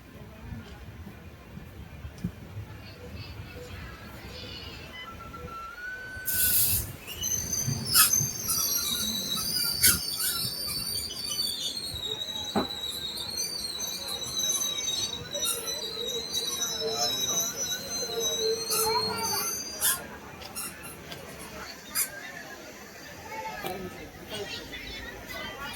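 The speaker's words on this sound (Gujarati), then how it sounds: "મવાવાળી ટ્રેન આવી ગઈ છે." A passenger train arrives at Sihor station near Bhavnagar, its wheels squealing in long high tones and rumbling closer over platform chatter, with people talking throughout.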